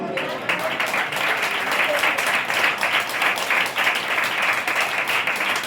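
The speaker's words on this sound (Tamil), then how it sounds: "கைத்தட்டத்து கேட்குது." Steady, dense clapping from a church congregation, sustained and fairly loud, filling the whole stretch without a break.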